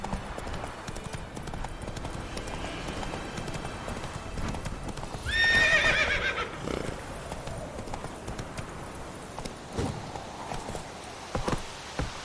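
In The Witcher, the horse Roach trots with a steady hoof clip-clop, breaks into a loud, close neigh mid-clip, then carries on with its hooves.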